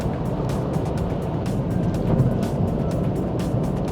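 Kia Stonic GT Line small engine pulling under acceleration up to highway speed, heard as a steady broadband drone with road and wind noise from inside the cabin, moderately loud and continuous.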